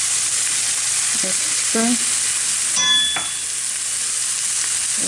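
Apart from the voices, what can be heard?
onion, garlic and cumin frying in a pan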